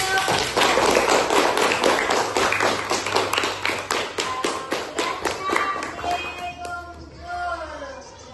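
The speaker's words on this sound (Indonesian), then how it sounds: "Tepuk tangan untuk" Schoolchildren clap together in a classroom during a National Education Day event at an elementary school, a loud rhythmic burst of hand claps that fades toward the end as talking takes over.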